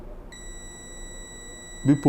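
A steady electronic beep from a multimeter continuity test on a mobile phone starts early and holds, a thin continuous tone, with brief speech bursts near the end.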